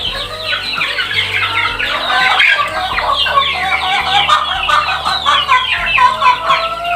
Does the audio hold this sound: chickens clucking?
yes